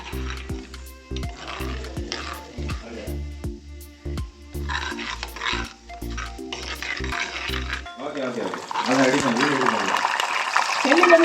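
Garlic frying in sesame oil, a spoon clattering and scraping the pan in uneven strokes, then a louder, steady sizzle building toward the end, with a voice talking over parts of it.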